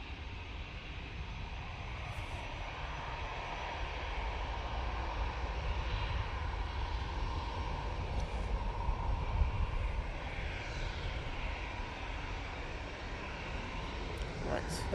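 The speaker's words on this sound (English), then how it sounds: "This prop is from the Isle of Man, and they are tipping their left wing down in order to stay on that centre line" An Isle of Man propeller plane landing at Manchester Airport, its engine drone broad, loud and steady throughout, a sustained rumble with no pause.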